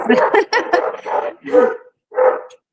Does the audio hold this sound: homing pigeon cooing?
no